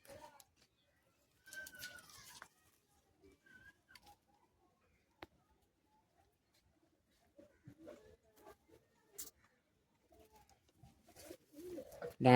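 Andhra pigeons at a pigeon sale give soft, intermittent coos and calls, faint and scattered with quiet gaps, with a brief louder burst at the end.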